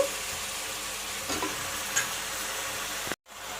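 Cut brinjal, drumstick, jackfruit and potato pieces fry in a pan with a continuous soft sizzle. A few faint clinks sound early on, and the frying drops to near silence for a moment before it resumes.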